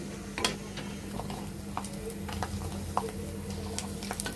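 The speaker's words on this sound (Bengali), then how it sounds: "একে একে আমরা এইভাবে সবকটি পাপড় ভেজে নিব" Homemade atta papad fried one at a time in hot oil on high heat, giving a steady crackling sizzle with scattered sharp pops and light utensil taps throughout, with no talking.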